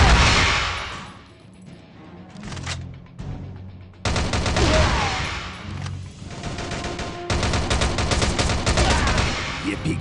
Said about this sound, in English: Fire at the barrels and blow them to hell.